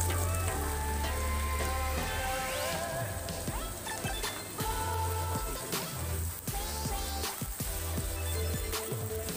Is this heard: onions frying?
yes